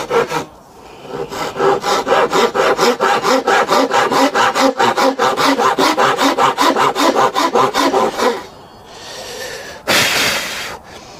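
A Japanese pull saw fitted with a fine carpentry blade cuts through wood in rapid, even back-and-forth strokes, loud and close. The strokes pause, then one last short burst follows.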